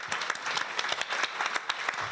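An audience applauds at a book presentation honouring an artist's works, with steady, moderately loud clapping made of many distinct claps and a few sharper hand strikes standing out.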